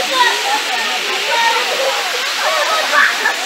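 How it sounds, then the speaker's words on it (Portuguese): Cachoeira da Janjana waterfall in Nova Iguaçu, Rio de Janeiro, roars as a loud, steady rushing wash of falling water close by, with faint higher chirps mixed in. "Cachoeira da Janjana."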